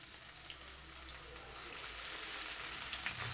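Green chilies, curry leaves and turmeric sizzle and fry in hot oil in a pan for a chicken curry, a steady close crackling hiss throughout with no talk.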